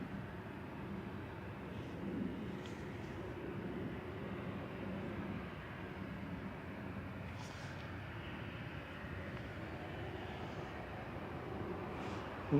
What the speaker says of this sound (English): Golf Air's taxiing out.